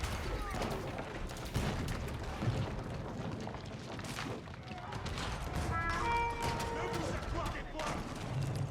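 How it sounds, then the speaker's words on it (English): Cannons fire at a fortress in Age of Empires 4 in a busy battle, with repeated booming thuds and gunfire crackle scattered throughout, partly under a commentator's continuous talk. "Royal cannons now engaging the fortress."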